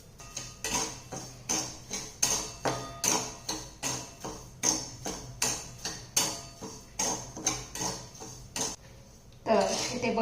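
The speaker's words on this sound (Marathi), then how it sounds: "या कढईमध्ये ही जी वरी आहे या ठिकाणी ही अगोदर भाजून घ्यायची आहे" Barnyard millet being dry roasted in a wok over a gas flame, with a steady series of sharp scraping and tapping strokes of a spatula against the metal pan, fairly close and regular, without speech.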